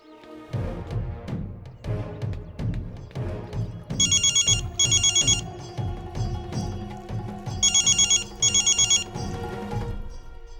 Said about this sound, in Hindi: तू जा जल्दी चंदू को फोन कर